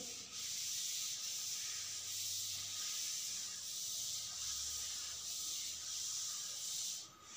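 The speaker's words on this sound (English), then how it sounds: "I am rubbing this solution." A board is rubbed clean with an eraser in a classroom, rhythmic close scrubbing strokes forming a steady hiss with periodic swells, no talking.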